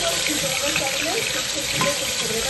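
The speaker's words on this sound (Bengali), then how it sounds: "তেলটা আমার গরম হয়ে গেছে। এবার আমি মাংসটা দিয়ে দেবো।" Meat added to hot white oil in a pan for Afghani meat and potatoes, giving a loud dense crackling sizzle that runs steadily throughout, close up with no voices.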